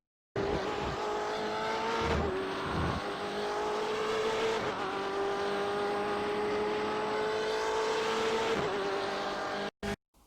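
A BMW M8 GTE race car laps Interlagos in iRacing, its engine holding a loud continuous drone with shifting pitch as it accelerates, brakes and shifts through corners, with occasional tire squeal and no talk.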